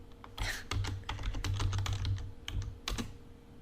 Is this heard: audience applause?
no